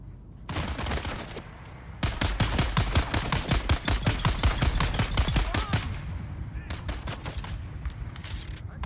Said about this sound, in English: I'd like to get a couple of shots off.